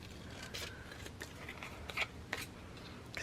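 Scissors snip along the straight edges of paper for a craft embellishment, a quiet series of short crisp cuts spaced irregularly, close up with no voices.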